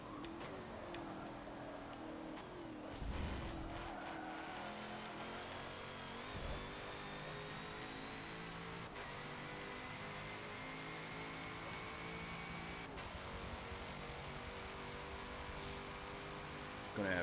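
Stock Corvette C7.R race car in Forza 7, engine droning steadily with shifting pitch and tire noise throughout, a few brief bumps and a louder burst at the end.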